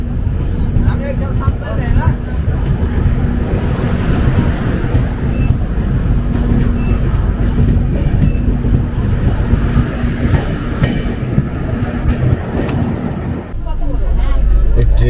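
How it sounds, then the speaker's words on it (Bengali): A train pulls out of Barsoi station in Bihar's Katihar district on the Kolkata–Dibrugarh summer special, giving a steady, loud rumble of wheels and running gear heard from on board that continues throughout. "বারসই থেকে ট্রেন ছাড়লো"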